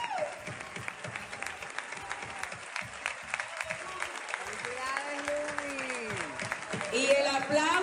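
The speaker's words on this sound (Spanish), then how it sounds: "que se siente el aplauso para esta excelente artista" Applause from a live studio audience on a Spanish-language morning TV show rolls on for several seconds, fairly soft and continuous, mixed with voices and gliding tonal sounds.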